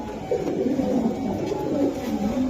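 Throaty cooing from pigeons at a pigeon sale, including breeding pairs, rolls on continuously at moderate loudness with almost no talk over it.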